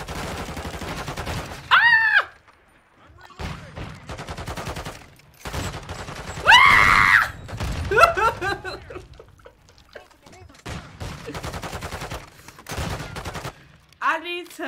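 Gunfire and explosions in Call of Duty Modern Warfare 2, bursts of rapid shots in repeated clusters with quiet gaps between, alongside chuckles and laughter from players.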